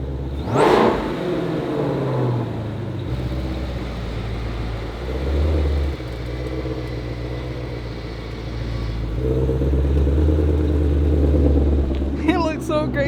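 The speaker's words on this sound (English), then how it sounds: "So I'm excited to hear if we can notice a difference with the Supercharger whine." A 2020 Shelby GT500 with its hood vent removed revs repeatedly, loud surging engine pulls with a rising supercharger whir, rumbling between blips while people talk over it.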